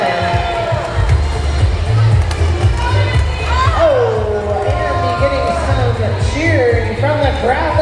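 A crowd at a roller derby bout cheers and murmurs in a loud, continuous wash of noise, with an announcer talking over it throughout.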